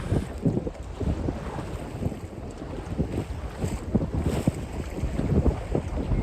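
Sailing on a lake under a double-reefed mainsail, with wind buffeting the microphone and waves slapping the hull in a steady, rough wash that stays loud and close throughout.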